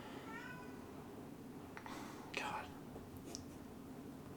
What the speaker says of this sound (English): If you hear a cat crying in the background